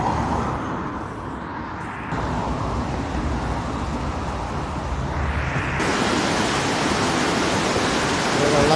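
Continuous broadband roar of the waterfall in Hønefoss, Norway, a steady wash of rushing water that thickens and grows louder partway through, with no voices.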